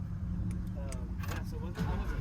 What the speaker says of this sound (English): You can start it up. How do I do that? Just push the start button, hold the brake.